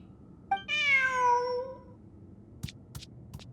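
A cat meows once in a video game, a clear drawn-out cry that falls in pitch, followed by a few short bright clicks against quiet background hum.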